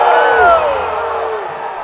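An anxious crowd fills the stands at a Vanderbilt Commodores college baseball game against Duke, a steady murmur of many voices with a few rising calls and whistles standing out over the din.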